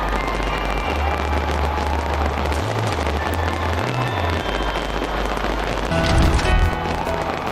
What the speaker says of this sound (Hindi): ऑकलैंड में बेहद अलग अंदाज में काउंटडाउन शुरू हुआ और फिर जमकर आतिशबाजी हुई।